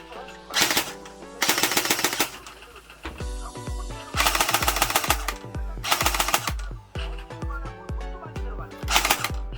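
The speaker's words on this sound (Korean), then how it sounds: "테스트 사격 잘 되고 있습니다" An Academy AK47 electric airsoft gun with blowback fires a test sequence: rapid mechanical bursts of full-auto shots alternating with single clacks, loud and close, the bolt cycling audibly.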